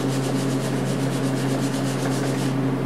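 Sandpaper rubbed steadily on the wood of a Martin D-28 guitar during a neck reset and refret repair, a close continuous rhythmic scratching of fast back-and-forth strokes, heard alone.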